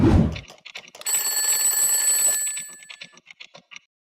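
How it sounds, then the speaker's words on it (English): A quiz-game countdown timer sounds a bright, steady electronic ringing tone for about a second and a half, followed by a string of sharp, evenly spaced ticks that gradually fade, with a brief thump at the start. "Timer starts now."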